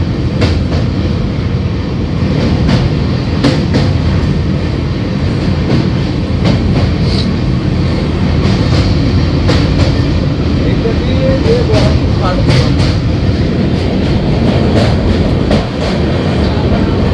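A train runs steadily on rails along a curving stretch of track near the Bhagirathi Ganges, with continuous loud rumble and rhythmic clatter throughout, close and constant.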